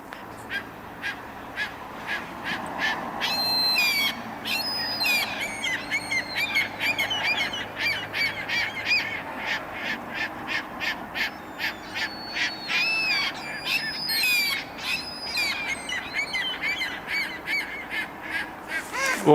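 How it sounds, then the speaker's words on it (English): Repeated harsh, squealing common gull calls, goose-like, in a busy overlapping chorus, loud and fairly close, continuing throughout with no talking. "That's not a goose. That's really a common gull."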